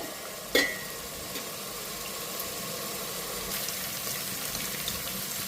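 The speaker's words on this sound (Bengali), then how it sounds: "তো আমি মুগ ডালটা দিয়ে মশলাটার লগে ভাজি" Mung dal frying with spices in a pan gives a steady, even sizzling hiss, broken early by a single sharp clack of utensil on pan, with no voices.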